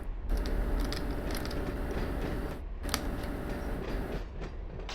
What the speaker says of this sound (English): I was just surprised to see a train going in there